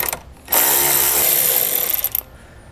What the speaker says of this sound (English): Now to take it out, I'm going to use a 10mm socket.